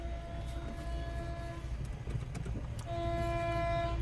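A train passes a railway level crossing, its steady low rumble joined by sustained horn tones near the start and again toward the end, loud and close.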